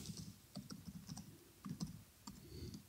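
Quiet typing on a computer keyboard while test case details are entered: rapid uneven clicking keystrokes over a soft low background hum, close and without speech.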